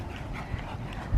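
A dog at a dog park pants in quick, breathy rhythm close by over a low, muffled background, with a slightly louder thump right at the end.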